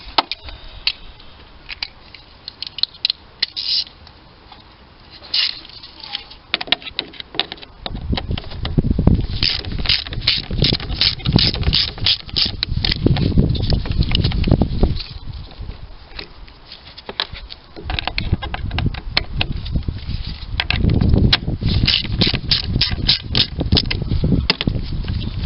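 A Torx T20 ratchet works fasteners loose on a 1.6 petrol Peugeot 308 under the bonnet, with rapid clicking ratchet passes in repeated bursts alongside close handling clatter and rustle.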